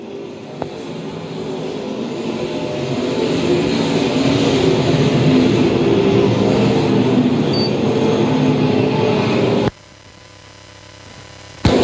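USRA Stock Car A main feature racing on a dirt track at night, a steady broad roar of engines that swells and holds for several seconds, then drops abruptly to a quieter hum before surging again.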